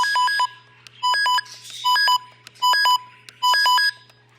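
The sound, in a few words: radio siren test beeping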